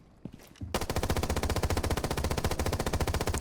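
Rapid sustained automatic fire from a PDW submachine gun in Rainbow Six Siege X, a brief quiet lead-in then a dense, even burst of loud close shots running to the end.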